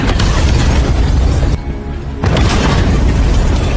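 A loud, continuous roaring blast of a gas explosion fills the clip, briefly dipping before the thunderous rumble surges back.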